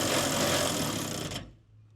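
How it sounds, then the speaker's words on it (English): A tight-reach 3/8 extension wrench tightens the ignition control module bolts on a 1995 Ford F150, giving a close, steady buzzing, rattling tool noise for over a second before it stops abruptly into near silence. "I'm going to bring in my party trick, which is the tight reach 3/8 extension wrench"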